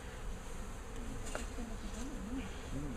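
Bees buzzing around an opened beehive, a faint, steady hum with individual bees droning past close by, wavering in pitch.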